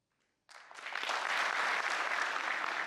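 Audience at a talk bursts into applause after a brief silence, a dense, steady clapping that holds moderately loud and evenly to the end.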